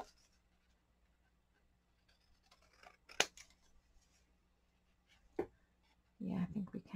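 Paper being trimmed with scissors for an accordion book craft project: a few sharp, separate snips in a quiet room, followed by a brief rustle of paper.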